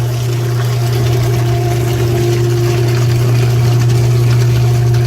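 A big block Crusader marine engine runs steadily during an engine flush service, a loud, constant drone with a strong low hum and no change in pitch, with no voices.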